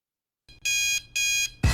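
An alarm clock sounds two loud, high electronic beeps in quick succession, then a sudden louder thump cuts in.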